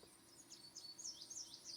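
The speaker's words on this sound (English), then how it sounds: "you can hear plenty of birds chirping around" Birds chirping in a video game ambience, several quick high tweets and trills scattered over a steady low background hum, fairly faint and without any talk.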